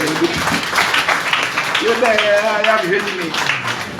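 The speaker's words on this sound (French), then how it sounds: "On va battre un gros applaudissement pour les prédicateurs" Church congregation clapping for the preachers at a Baptist service: loud, continuous crowd applause with voices and shouting mixed in throughout.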